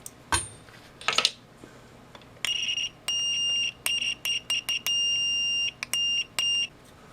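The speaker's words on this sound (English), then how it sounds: "Continuity tester works." A UNI-T UT15C VoltStick continuity tester gives a series of sharp electronic beeps, some short and some held longer, in an irregular pattern. A couple of faint clicks and handling knocks come before them.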